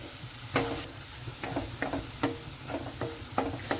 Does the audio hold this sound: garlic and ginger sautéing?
yes